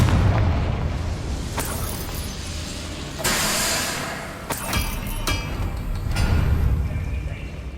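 Confringo spell explosions in the video game Hogwarts Legacy: loud, booming blasts with bright bursts and crackling debris, heavy low rumble throughout and several sharp hits in succession, with a voice briefly speaking over them.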